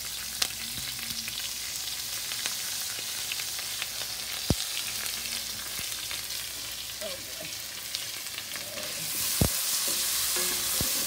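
Onions and garlic sizzle and crackle steadily in a hot wok for a quick stir fry, with sharp clanks of a utensil against the pan and occasional stirring scrapes, close and continuous without talk.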